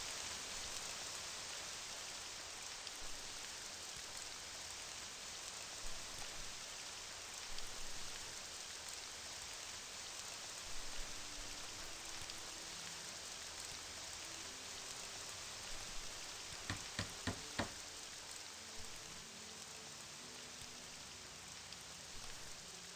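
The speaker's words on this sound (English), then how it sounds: "It's raining now, it's awesome." Steady rain falls in the modded Morrowind game world, a soft, even hiss that carries on for over twenty seconds, with faint thuds, a brief run of sharp ticks and quiet tonal game sounds underneath.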